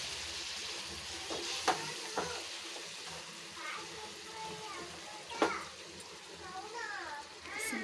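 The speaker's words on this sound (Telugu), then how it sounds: "చికెన్ ఇప్పుడు యాడ్ చేసేద్దామండి. వేసి ఒకసారి ఇట్లా కలుపుకుంటే సరిపోతుంది." Chicken hitting a hot pan and being stirred gives a steady, faint sizzle with occasional scraping clatters, while children's voices and chatter carry on in the background.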